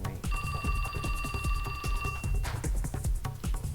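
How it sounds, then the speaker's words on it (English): A phone ringtone from the video game 428: Shibuya Scramble chimes in sustained bright tones for about two seconds over a busy rhythmic game music backdrop. "a ringtone startled him out of his fury"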